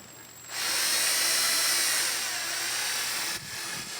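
A power drill whines steadily as it bores out a snapped bolt on a John Deere 9RX tractor, loud and close, running for about three seconds before easing off.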